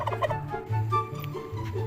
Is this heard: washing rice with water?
no